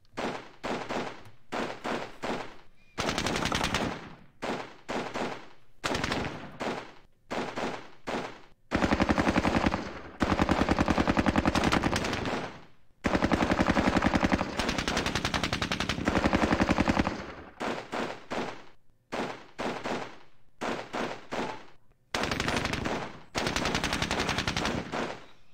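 Sustained bursts of machine-gun and rifle fire during a night assault in a Falklands war video game, loud repeated volleys broken by short pauses, with no talk.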